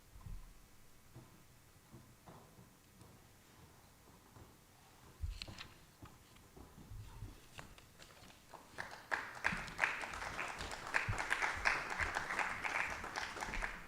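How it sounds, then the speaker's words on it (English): Meeting attendees at a school committee session break into scattered clapping that builds from sparse taps into fuller applause, rising in the second half and sounding moderately close in a room. "Never been clapped for being late before"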